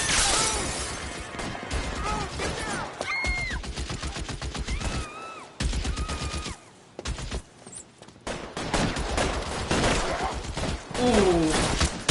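A gunfight in the 1940s Los Angeles crime game L.A. Noire brings rapid, sharp bursts of pistol and rifle fire in dense volleys with brief pauses, while voices call out over the shooting.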